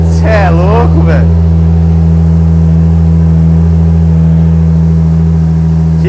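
BMW E36 turbo idling loud and steady with a deep, even engine drone throughout, while people talk excitedly over it near the start.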